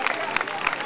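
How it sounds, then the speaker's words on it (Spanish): Spectators along the course of an urban mile and half marathon applaud a passing race participant, a brief burst of crowd clapping with rhythmic claps. "Un fuerte aplauso para este participante."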